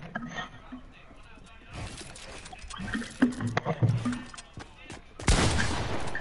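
Bursts of gunfire in Fortnite crack out under a player's excited talk, scattered shots building to a loud, dense volley near the end.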